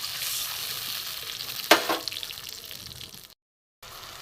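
A spice mixture goes into a hot pan for a brinjal curry with mustard and poppy seed and fries with a continuous sizzle. A sudden splash-like burst sounds partway through, the frying fades, and then it cuts briefly to silence.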